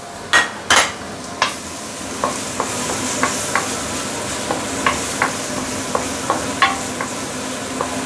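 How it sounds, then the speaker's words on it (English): Garlic sizzles in hot oil in a wok, a steady crackling hiss broken by a string of sharp metallic scrapes and clinks as a spatula stirs, fairly close. "I love to listen to all this sizzling sound."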